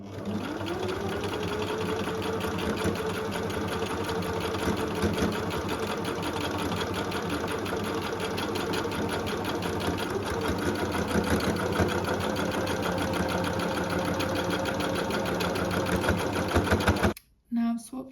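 A sewing machine works through straight and zigzag stitches on knitted fabric, a steady close whir with rhythmic needle ticking that runs nearly unbroken before stopping near the end; a voice talks over it.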